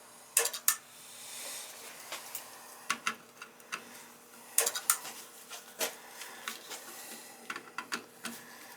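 Zone controls on an Amtrol indirect water heater make irregular dry clicks and ticks, some in quick pairs, over a low steady hum in a quiet utility space.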